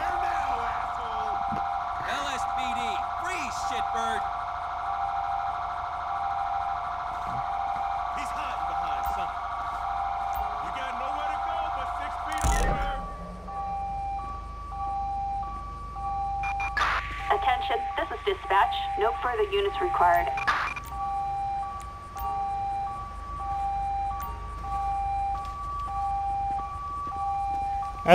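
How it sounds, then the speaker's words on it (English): Police car siren in Grand Theft Auto V during an LSPDFR park ranger patrol, heard as steady electronic tones that shift into a fast warbling wail before settling back. It stays continuous, with voices speaking over it. "That's my siren going on."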